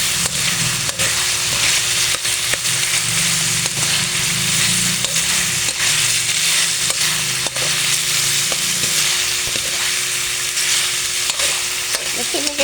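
Pinakbet meat and vegetables sizzle loudly in a pan as they are stirred, a dense, continuous frying hiss with faint scraping and clinks of the utensil throughout.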